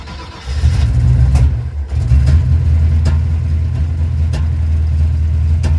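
A cold car engine fitted with an Edelbrock 1405 carburetor runs loud and close with a steady, rough low rumble, and a few sharp pops break through it.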